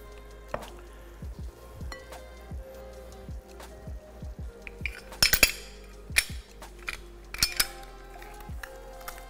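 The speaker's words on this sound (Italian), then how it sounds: "aggiungo le patate alla polpa delle melanzane" Potatoes tipped into a pan of eggplant pulp for mis-made eggplant rolls, giving soft squishy thuds, clinks of a utensil against the pan and scattered scraping taps, close and moderately quiet, with no talking.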